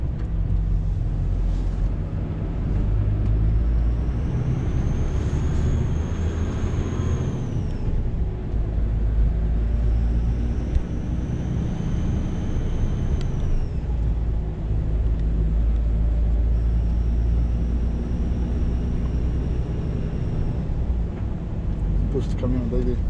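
A truck engine rumbles steadily under throttle for the whole stretch, with a whining tone rising and falling in long sweeps and a voice talking over it.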